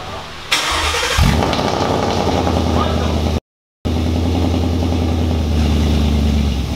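A 2016 Ford Mustang GT with a Lund Racing tune cranks and fires up, the V8 catching with a loud rising rev before settling into a deep, steady idle, close to the car, with a voice talking briefly near the start.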